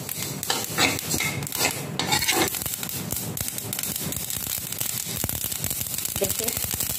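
Chutney crackles and spits as it cooks in a pan, with dense popping and stirring scrapes throughout and a voice talking over it.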